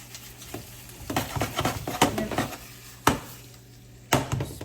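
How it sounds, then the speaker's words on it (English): Marinated beef stir-fried in a hot pan for an egg noodle and vegetable dish: steady sizzle broken by repeated scraping strokes and a few sharp clanks of the utensil against the pan, close and fairly loud. "Now we're going to add in our marinated beef. Heat it up. Stir it in."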